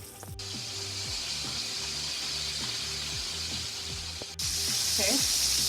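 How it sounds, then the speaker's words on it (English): Chicken wings for buffalo wings sizzle steadily in hot oil, a dense close hiss that brightens and grows louder near the end, with faint kitchen clatter underneath. "Now we're going to fry the last one before I show you what I'm going to do next."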